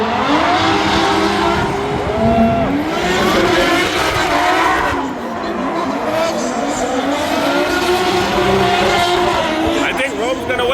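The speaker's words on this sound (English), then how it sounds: "Do some drifting." Cars drifting at Hot Pit Auto Fest, with engines revving and tires squealing in long sustained screeches, loud and close, mixed with crowd noise and voices.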